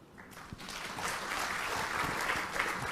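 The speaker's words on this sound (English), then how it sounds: "Can we please rise to give a round of applause to Dr. Rohan Gunaratna, who has come all the" Applause rises from an audience at a talk on Sri Lanka by a counter-terrorism scholar, building from a few claps into a fuller, steady round that stays fairly soft and distant.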